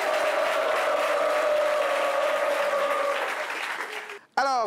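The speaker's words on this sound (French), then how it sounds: "On les applaudit très fort" Audience applause at a French debate show on whether to sanction a teacher, a steady wash of clapping that fades out near the end before a voice briefly cuts in.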